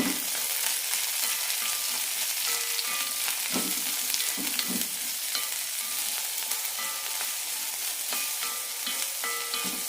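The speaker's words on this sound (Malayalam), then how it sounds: "രണ്ട് പച്ചമുളക് കീറിയിടാം ഒരു സവാളയും നന്നായി വരയ്ക്കാം" Green chilies and sliced onion frying in a pan for street-style masala poori, a constant close sizzle with faint crackles and a few soft stirring knocks.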